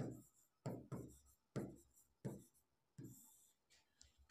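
Chalk taps and scratches numbers onto a board in a maths class: about six quick, close strokes come in a loose rhythm, each with a sharp start and a quick fade, and the room is otherwise quiet.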